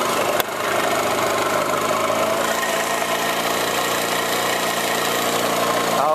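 A moped engine idles steadily while warming up, a close continuous mid-pitched putter with a faint rhythmic knock and a brief click near the start, no voices.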